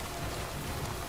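Timefall rain from the PS5 game Death Stranding Director's Cut, heard as a steady, dense hiss of falling rain with nothing else over it.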